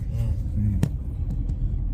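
Road traffic in California heard from a car on a congested road: a steady low rumble of engines and tyres, with a few short clicks and faint voices underneath.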